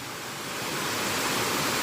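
Steady broadband rushing of a jungle waterfall in deep humid forest near Sekong, loud and continuous throughout with no voices.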